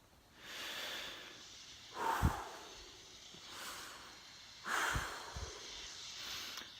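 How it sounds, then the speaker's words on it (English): A person breathes deeply, with two slow, loud, close breaths spaced a few seconds apart over a quiet background hiss. "Breathe with me."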